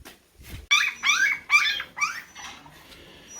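Puppies whimpering and whining in a run of four or five high, wavering cries, fairly close and alone, at the end of a workday at a house construction site in the Philippines.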